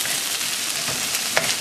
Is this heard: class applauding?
no